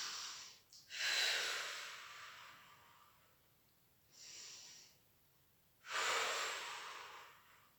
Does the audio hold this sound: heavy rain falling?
no